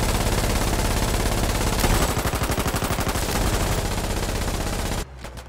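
Sustained rapid gunfire from the Foxhole war game, dense overlapping shots and machine-gun bursts filling the scene loudly for about five seconds before abruptly cutting off.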